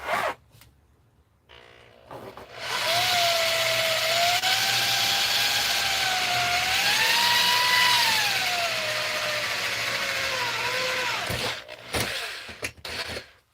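A power drill whines steadily for several seconds while drilling into a solar panel with no table underneath, its pitch shifting under load as it bites in, with handling clicks before and after.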